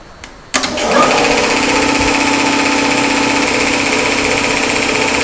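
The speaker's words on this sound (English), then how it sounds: "Now we shall start the compressor by switching on the motor by removing the red button." A two-stage reciprocating air compressor switched on in a lab, starting with a click and then running at a steady, loud mechanical drone with a rapid pulsing chatter that holds constant.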